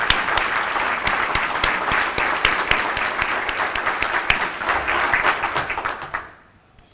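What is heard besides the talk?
audience applause for city staff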